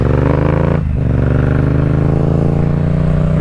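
A motorcycle on a late-night ride gives a loud, close, steady engine drone, with a short dip in revs just before the one-second mark before it settles back to an even hum.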